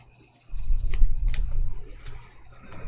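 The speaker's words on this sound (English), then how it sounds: "Now 1500, which is the last of the buffing that I'll do while sanding" Scratchy wet-sanding strokes with 1500-grit paper on a surface, a few quick passes with brief pauses, close by with no talking.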